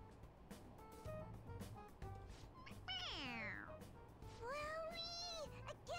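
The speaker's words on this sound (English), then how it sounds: "It meows when you press on its head." A stuffed toy cat in a video game meows when its head is pressed, giving two drawn-out, rising and falling electronic meows up close over steady background game music.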